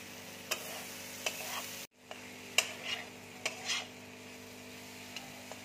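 Egg curry (dimer mogoj) with Kashmiri chilli powder sizzling softly in a pan, with a quiet steady fry and several sharp scraping stirs of a utensil, close and fairly faint, with no talking.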